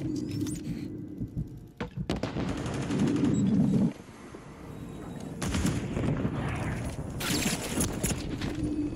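Automatic gunfire in a ranked first-person shooter match, loud bursts and rapid shots clustered across the clip with some breaks, mixed with game effects.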